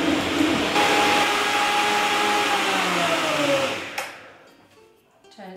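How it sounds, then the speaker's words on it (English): A high-powered Optimum 9900 blender whirs loudly as it blends raw coconut laksa soup until warm, a steady broadband motor roar with a rising pitch that cuts off sharply near the end, leaving quiet clatter. "We're going back to our blender now and we'll blend our soup until it's nice and warm."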